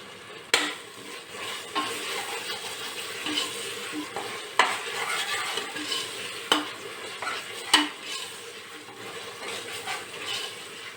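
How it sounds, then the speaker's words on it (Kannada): Spices and fresh coriander leaves frying in a pan for a vegetable biryani, with a steady soft sizzle under repeated stirring and occasional sharp scrapes and taps of a spoon against the pan, close by and without talk. "ಹಸಿ ವಾಸನೆ ಹೋಗೋವರೆಗೂ ಚೆನ್ನಾಗಿ ಫ್ರೈ ಮಾಡೋಣ."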